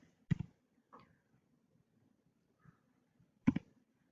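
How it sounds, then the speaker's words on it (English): A few sharp, isolated clicks of typing on a computer keyboard while entering an expression into a graphing calculator program, spaced irregularly with quiet gaps between them. "I'm typing it in just like she did. I'm actually using my keyboard."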